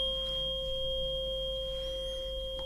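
Sound healing tones ringing as steady pure sustained pitches with a low hum beneath, soft and unbroken, with faint gliding chirps near the end.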